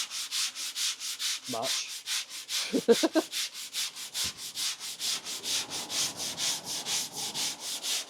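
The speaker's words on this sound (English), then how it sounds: "Now he's going to show me how to sand because I've never done it before." Hand sanding with 120-grit sandpaper, a steady rhythm of raspy back-and-forth rubbing strokes, close and even, with brief bits of voices in between.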